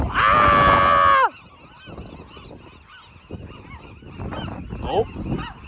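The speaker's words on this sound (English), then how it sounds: "It's a baby seagull and I'm being attacked." A young seagull gives a loud, close, sustained honking squawk for just over a second, then fainter gull calls and rustling continue in the background on Alcatraz.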